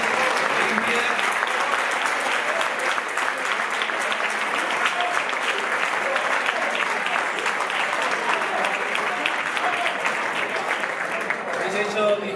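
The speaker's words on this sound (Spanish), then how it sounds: "Un aplauso por haber conseguido una fiesta impecable, limpia." Steady, dense applause from a large audience at a Segorbe bullfight gala in 2023, sustained and loud for about twelve seconds before easing slightly at the end.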